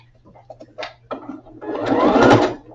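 A domestic sewing machine runs a short burst of back stitching, its motor whirring and building in a steady buzzing rush after a few soft clicks and handling noises, close and fairly loud.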